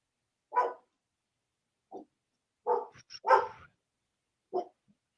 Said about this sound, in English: My dog is just barking and she didn't even know what she's barking at.